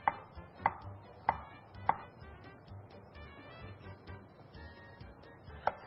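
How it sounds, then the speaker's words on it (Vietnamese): A knife slices peeled starfruit into thin rings on a board: five crisp, close chops, four coming about every half second, then a pause before a final cut, over a faint kitchen hum. "bây giờ chúng ta sẽ cắt ra thành những cái khoanh mỏng như thế này"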